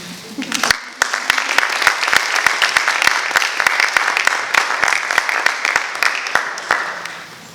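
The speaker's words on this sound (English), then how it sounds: "You guys can applause now." Audience applause at a National Honor Society ceremony, a steady patter of many hands clapping in a hall, with sharper individual claps standing out near the microphone and voices murmuring underneath.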